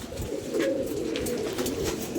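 Pigeons coo in a steady, continuous murmur of low, rolling calls that sit close and fairly loud throughout, with no voices.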